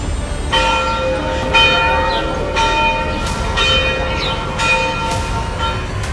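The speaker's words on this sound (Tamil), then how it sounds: "அந்த மணி கூண்டுல மணி இப்போ ஆறு மணின்னு அடிக்குது" A large clock-tower bell in a market street strikes six o'clock, with six loud, evenly spaced ringing strokes whose long tones overlap and linger, and no talk.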